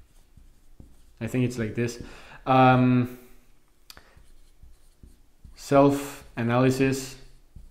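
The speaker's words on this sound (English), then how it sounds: "let's write this down" A pen scratches across paper as notes are written by hand, with faint, quiet strokes in the gaps between a person's speech.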